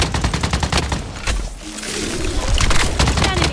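Gunfire in the Blood Strike Mobile battle royale game comes as rapid bursts of loud, close shots, a short lull, then more sustained firing, with game voice lines mixed in.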